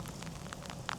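Heavy rain pours down during a stop at a cafe in Winscombe, North Somerset, a faint steady hiss of drops on surfaces with scattered soft pattering.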